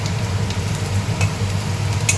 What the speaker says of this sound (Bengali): আমার আলুটা ভাজা হয়ে গেছে তুলে নিই